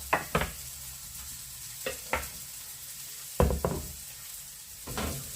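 Garlic frying in a pan, with soft continuous sizzling under a series of sharp scraping stirs from a utensil, close and fairly quiet with no talk.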